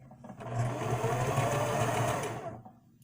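A sewing machine driven by a foot pedal runs in one steady, close whirring burst of about two seconds, starting and stopping cleanly with no talk.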